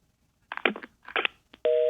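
A telephone line goes dead after the caller hangs up on a Korean stock-market call-in broadcast, with a few short beeps followed by a steady tone at the end.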